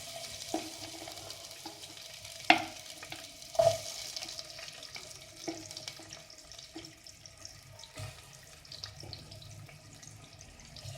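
Onion frying in hot oil, a soft low sizzle with a few sharp clinks and stirring scrapes scattered through, fairly quiet and close.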